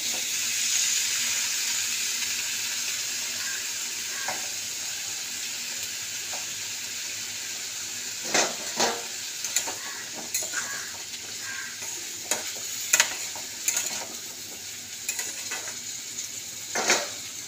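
Vegetables fry in a pan with a steady sizzle, and metal utensils stir and scrape in repeated sharp clinks that grow busier toward the end, close by, with no talking.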